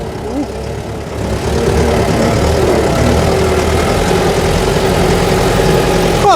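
A T-40AM tractor engine idles nearby, a steady low rumble with constant vibration that swells slightly after the first second and then holds even and loud, no talking over it.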